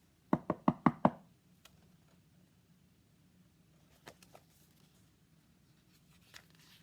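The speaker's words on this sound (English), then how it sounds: "He knocked at the door." Five quick, sharp knocks sound on a door in a fast burst, followed by near silence with a few faint scattered taps and rustles.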